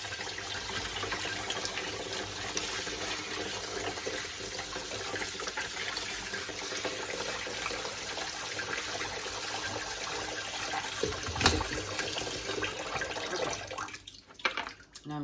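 Water runs steadily from a kitchen tap during rinsing for soup prep, a loud constant rush that briefly surges and then tapers near the end, with no talk.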